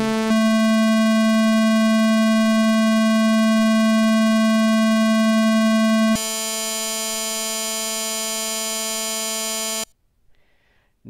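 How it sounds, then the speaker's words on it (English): A synthesized tone holds steady, then jumps to a very buzzy, harsh square wave that sounds loud and constant for a few seconds before cutting off into near silence. "that square wave near the end was exactly the sound analog of Fourier's solution"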